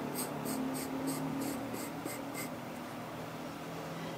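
Pencil or pen drawing a curve on paper, a steady close scratching with short repeated strokes at first, then a smoother continuous rub, with no talking.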